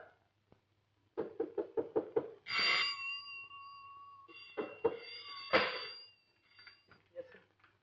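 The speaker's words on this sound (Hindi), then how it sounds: "क्यों दरवाजा खटखटाया जा रहा है?" Someone knocks on a door in the 1972 Hindi comedy film Koshish: a quick series of about six sharp raps, followed by a louder bang and other indoor sounds, with a voice faintly mixed in.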